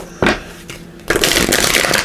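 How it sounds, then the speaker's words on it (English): Revelation tarot cards are shuffled close up: a short riffle, a pause, then a longer continuous rustling run of cards slapping together. "let's give these a shuffle"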